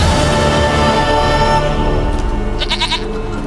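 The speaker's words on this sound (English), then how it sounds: "Goat of mine, dearest, sweetest goat." A goat bleats in The Witcher 3, a short wavering call near the end over steady game music and ambience.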